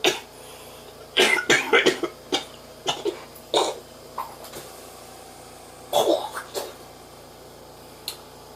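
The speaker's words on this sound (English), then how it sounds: "You just got to cough it up." A person coughs close by in several harsh bursts, with a quick cluster early on, a single cough midway and another short run later, then silence between. The person is dealing with a lingering taste of barium.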